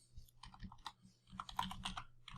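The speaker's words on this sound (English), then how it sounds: "So for this, we'll just type in" Quiet, close typing on a computer keyboard, irregular clusters of soft key clicks with short pauses between bursts.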